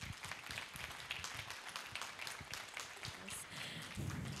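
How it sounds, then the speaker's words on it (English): An audience at an Overseas Investors Chamber of Commerce event gives a round of applause, a faint, steady patter of many hands that sounds distant and continues for several seconds. "Ladies and gentlemen, please give him a big round of applause."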